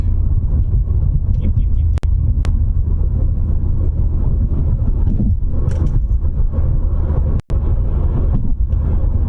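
A car driving down a city street in Houston, Texas, with a steady low engine and road rumble heard from inside the cabin, broken by a couple of sharp clicks and brief knocks.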